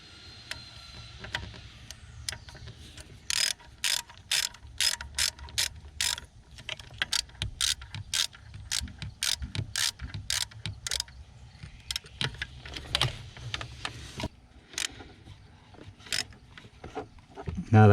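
Ratchet wrench clicking in rapid bursts as T30 bolts are driven into a Kia Optima steering coupler, with repeated sharp ratcheting runs and brief pauses between strokes, close up and loud.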